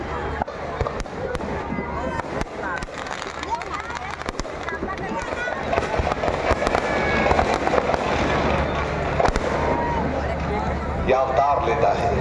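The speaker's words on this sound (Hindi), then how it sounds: "और देखिए पटाखों की आवाज के साथ" Rapid firecracker bursts crackle and pop continuously amid a noisy crowd at a Ravan effigy burning festival in Patna's Gandhi Maidan, with people talking and shouting throughout.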